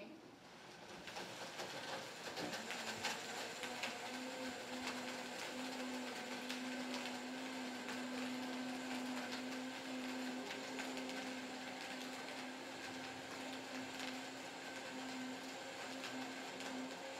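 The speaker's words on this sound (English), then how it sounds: "So I'm just going to put this on the blender" A Vitamix blender whirs steadily at a constant pitch for the whole stretch, a loud, even motor hum with a brief rising start.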